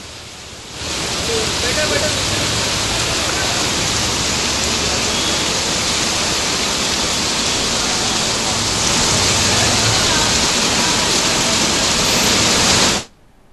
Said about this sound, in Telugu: వర్షం దంచి కొట్టడంతో